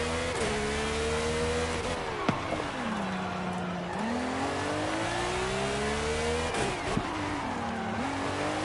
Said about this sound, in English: Proper big Formula 1 engine.